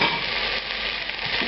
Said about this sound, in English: A hot pan with some vegetable oil in it. Start cooking the red onion and red bell pepper just to soften them.